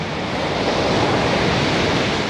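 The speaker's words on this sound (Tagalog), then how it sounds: "mapapansin nyo yung alon" Ocean waves break along an eroding beachfront in a dense, continuous wash of surf, loud and close, steady throughout with no voices.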